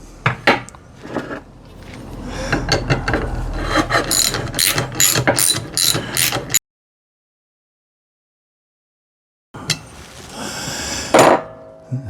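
Ratchet wrench working a 10mm nut that holds a rubber part in place, with quick repeated clicking strokes and some metallic knocks, loud and close, then a few seconds of silence before another short burst of clicks.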